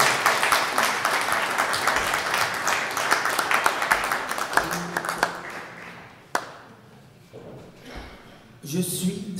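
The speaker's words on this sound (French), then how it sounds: "Mesdames, messieurs, quelques applaudissements s'il vous plaît" Audience applause for a performer at a French show, building into a thick clapping wash before thinning into scattered claps and fading, with voices and a sharp tap near the end.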